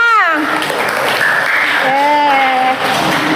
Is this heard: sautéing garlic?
no